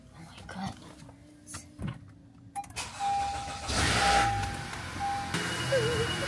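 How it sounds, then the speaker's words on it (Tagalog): A car engine starts on a cold morning and settles into a steady idle, heard fairly close after quieter movement, with a voice talking briefly and a faint whine over the idle. "Papainit ko mo lang yung sasakyan."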